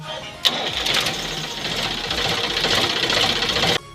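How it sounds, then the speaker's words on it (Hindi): A Sonalika tractor engine starts after its self-starter is repaired: a sharp crank, then a loud, rapid knocking diesel clatter running steadily for about three seconds before cutting off. "ट्रैक्टर हमारा एकदम अच्छे से स्टार्ट हो रहा है।"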